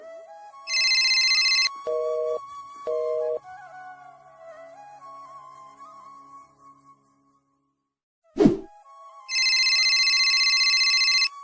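A mobile phone rings with a bright electronic ringtone in repeated bursts, loud and close, with a short thump in a pause between them.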